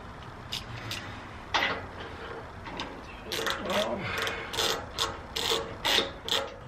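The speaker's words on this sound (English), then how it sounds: "now take your 19mm and tighten it up loosely" A 19mm socket ratchet clicks in short bursts while tightening a bolt on an aftermarket rear bumper of a 5th-gen Toyota 4Runner, close and moderately loud, with someone speaking at times.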